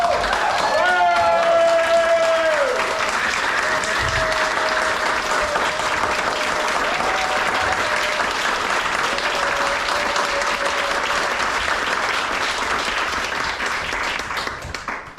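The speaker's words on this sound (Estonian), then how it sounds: "teeme ühe suure aplausi publikule" A large audience applauds loudly and continuously at a live comedy-variety show, broad sustained clapping that tapers slightly near the end, with a few tonal musical notes sounding over it early on.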